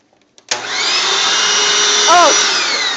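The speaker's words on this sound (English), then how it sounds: "this will give you an idea of how this vacuum works" Hoover Windtunnel self-propelled upright vacuum cleaner switched on after a couple of small clicks, its motor spinning up into a loud, steady, close whine and roar that holds on continuously.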